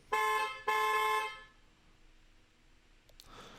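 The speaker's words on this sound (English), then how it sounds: "do a horn honk here" A Tesla's horn, triggered from its iPhone app, blares twice in quick succession, loud and close, then fades to quiet with a few faint clicks near the end.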